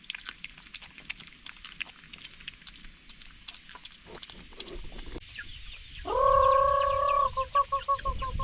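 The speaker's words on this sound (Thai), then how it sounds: "ไก่มันมาครับเห็นบ่" Chickens on a rural farm clucking near and loud, with a sustained rooster-like call and repeated clucks toward the end over soft background chirping and rustling, no talk.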